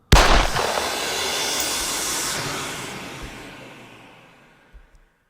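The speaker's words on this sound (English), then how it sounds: "The bastard shot a canister of nerve gas hidden in a bag." A sharp burst from a gunshot firing a hidden canister of nerve gas out of a bag opens the moment, then a loud spreading hiss of escaping gas that fades slowly over several seconds, with no talk over it.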